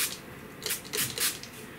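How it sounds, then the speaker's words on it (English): Water bottle spraying misty bursts onto watercolor paper, several short hissing puffs in quick succession, close and fairly quiet. "I'm just gonna spray"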